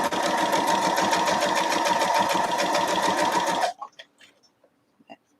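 Sewing machine stitches a Christmas tree quilt block in a rapid, steady mechanical chatter at close range, then stops abruptly, leaving a few faint clicks and fabric handling sounds.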